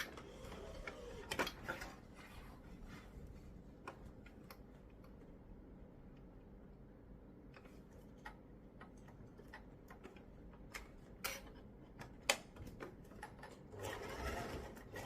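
Sewing machine stitching a fabric storage cube bag, a soft rapid ticking run of stitches with scattered clicks and handling knocks, quiet and close, with no speech.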